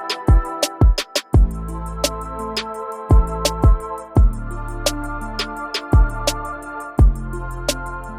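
A trap beat made in BandLab pounds with booming deep bass hits, crisp snaps, and rapid hi-hat ticks in a steady, loud groove.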